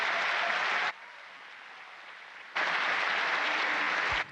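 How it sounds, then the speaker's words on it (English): An audience at a live link-up between space station crew and Texas students bursts into loud applause, which drops sharply to a faint hush for a moment before resuming at full strength and cutting off. "we'd like to all give you a round of applause for all you do for being the real heroes"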